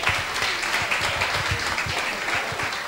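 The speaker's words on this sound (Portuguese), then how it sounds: "uma salva de palmas para ele" Audience applause at a Rádio Jovem de Tomar anniversary reunion, steady clapping from a crowd for about three seconds, even and continuous without speech.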